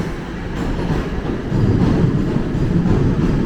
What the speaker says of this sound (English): There goes a train that will be heading north